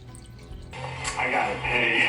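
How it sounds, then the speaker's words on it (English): Water splashing and trickling from an aquarium hang-on-back filter running with a low water level, a steady waterfall-like splash that swells louder after a quieter start, close and continuous. "If you let the water go down, which happens naturally due to evaporation, you'll get a waterfall sound"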